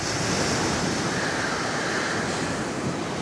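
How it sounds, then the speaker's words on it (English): Strong coastal wind buffets the microphone in a dense, continuous roar with a broad surf-like hiss, loud and unbroken, with no voices. "it is a lot windier here along the coastline"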